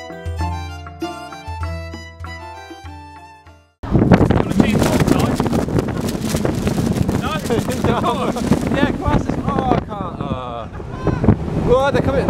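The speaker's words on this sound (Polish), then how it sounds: "Well, shit, it's train." A train rushing through the Kilsby railway tunnel in the UK, heard as a sudden loud, sustained roar of air and rumble that cuts in after a few seconds of music and continues with voices talking over it.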